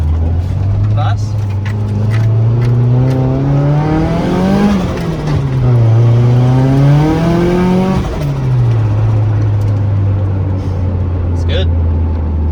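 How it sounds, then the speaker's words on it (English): A car reminiscent of a Subaru WRX cruising with a steady engine drone that rises and falls as it shifts through revs, loud and close from inside the cabin, with people talking over it. "But we're gonna go for a wee drive."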